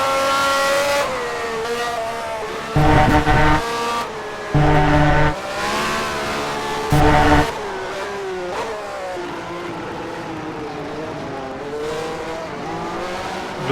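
Lotus and Ferrari racing cars in a racing simulation at the Argentine Grand Prix circuit: loud engine whines climb and fall through gear changes, with short harsh bursts as the cars pass close by.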